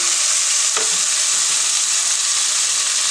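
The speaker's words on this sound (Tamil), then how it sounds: "வெங்காயமும் போட்டுக்கிறோம்." Onions fry in a pan as the tempering for a fish curry. A loud, continuous sizzling hiss runs throughout, with one brief stirring knock near the start.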